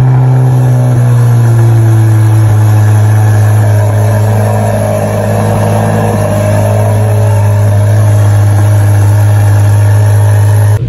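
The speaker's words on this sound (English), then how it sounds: "I have a video of this one revving up, actually." Chevrolet Corvette Z06 at a cars and coffee meet, its engine running loud and close with a deep steady drone and slight rises in pitch as the revs climb, with no voices.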